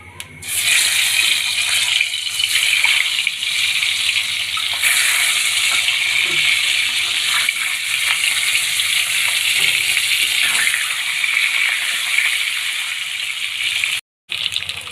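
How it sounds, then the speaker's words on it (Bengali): Eggs spit and crackle in hot oil, a loud continuous hiss with a bright sizzle that holds steady for over ten seconds and breaks off briefly near the end. "তেলটা গরম হয়ে গেছে, এবার আমি দিয়ে দেব ডিমগুলো"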